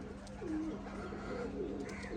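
A high flyer pigeon coos at close range, a couple of low rolling calls over a steady low hum, with no voices.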